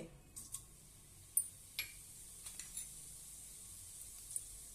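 Mustard seeds and cumin crackling in hot oil for a red pumpkin bhaji, a faint hiss punctuated by scattered sharp pops and ticks at irregular intervals, close and quiet, with no talking.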